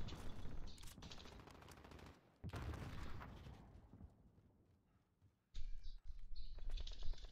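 Dual-wielded Akimbo guns firing in a video game, rapid bursts of shots in several loud stretches separated by short pauses, with no one talking.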